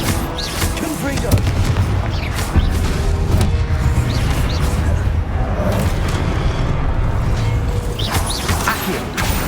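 Confringo fire spell explosions in the Hogwarts Legacy video game, heavy booming blasts and mechanical crashes layered densely throughout a chaotic combat mix, loud and continuous with no clear gaps.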